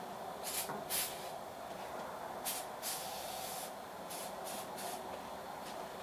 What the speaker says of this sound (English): give her a spray here